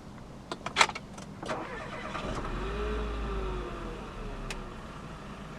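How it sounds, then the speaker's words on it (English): A few clicks and beeps, then the 1.2 TCe engine of a 2018 Renault Captur cranks via push-button start and catches, revving briefly before settling into a quiet idle. "put your foot on the brake, and press the start button straight away"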